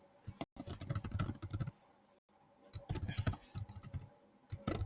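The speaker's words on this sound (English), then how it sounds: "And then you can type in" Typing on a computer keyboard, close and crisp, in two quick bursts of rapid key clicks separated by a second of silence, with a short final flurry.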